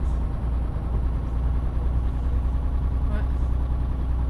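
A truck engine idles low and steady in Euro Truck Simulator 2, a continuous deep rumble heard from the cab with little variation, while a person speaks briefly over it.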